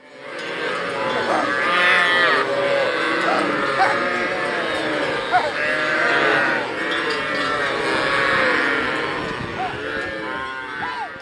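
A herd of Pulikulam cattle, a traditional native breed kept by herders, moos and lows continuously, several animals overlapping near and far in a busy outdoor scene with steady background noise throughout.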